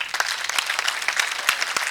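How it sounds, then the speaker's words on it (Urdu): Audience applause at a foundation-day gathering, a brisk, dense clapping of many hands, close and fairly loud, steady for the whole stretch. "میں چاہتا ہوں آپ سب لوگ ان کے لیے تالیاں بجائیں"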